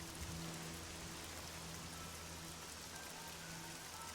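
Steady rain falls in Cyrodiil in the Oblivion video game, a constant, even hiss of rain on surfaces with a low hum underneath, faint and unbroken, with no voices.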